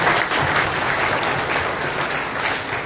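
Steady, dense applause from a large church congregation at an anniversary celebration, loud and continuous throughout with no pauses.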